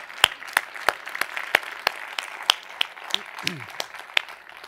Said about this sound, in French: on peut-tu donner une main d'acclamation à notre Dieu pour ce qui prend place aujourd'hui?